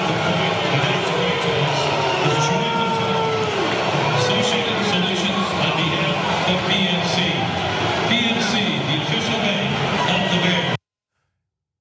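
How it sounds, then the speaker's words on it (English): A stadium crowd in Chicago keeps up a sustained low roar of disapproval as the Pittsburgh Steelers take the field, with voices talking over the noise until it cuts off abruptly. "the Steelers were booed when they finally came out"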